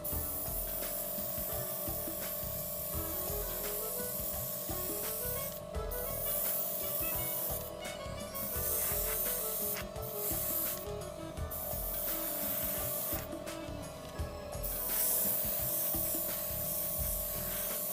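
An airbrush sprays chipping fluid onto a Gundam model kit in a series of short, hissing bursts of varying length, heard over a steady tonal background hum.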